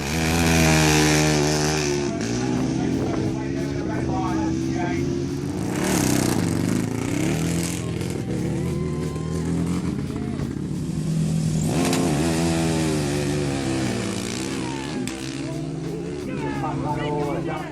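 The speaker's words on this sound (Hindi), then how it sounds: "फिर उन्होंने रेसिंग व्हील, स्पेशल टायर्स और एक 500 सीसी का 4 स्ट्रोक इंजन इससे जोड़ा।" A homemade van fitted with racing wheels, special tyres and a 500cc four-stroke engine revs hard, its loud buzzing drone rising and falling in surges, with a voice talking over it.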